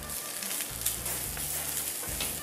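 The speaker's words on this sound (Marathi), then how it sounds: "ती चांगली परतून घ्यायची आहेत आपण पानं" Spinach leaves sautéing in a pan for dal palak give a soft, steady sizzle and frying hiss, close and moderately quiet, with faint stirring movements.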